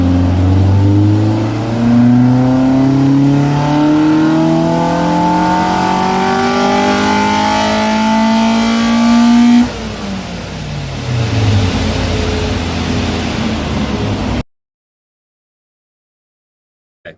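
A Ford ST170 on a dyno is run hard: a loud, close engine climbs steadily in pitch for about ten seconds, drops off, revs again, then cuts to silence.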